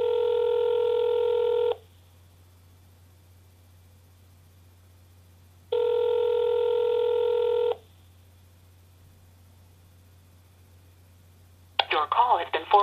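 A phone call rings out, two long electronic ring-back tones spaced a few seconds apart over a faint line hum, then a burst of garbled recorded voice at the very end.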